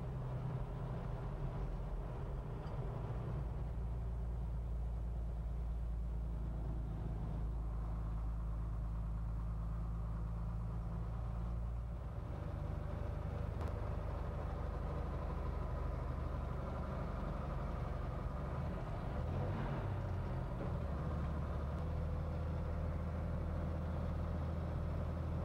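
A 1948 Mack L model fire truck labors up a steep country grade of about 10 percent through a horseshoe curve, its engine a deep, continuous drone that shifts in pitch partway through.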